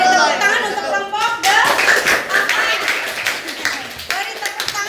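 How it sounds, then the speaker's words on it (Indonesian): A class claps for a student group after its presentation, brisk clapping that rises in bursts with voices and light laughter mixed in. "Beri tepuk tangan untuk kelompok"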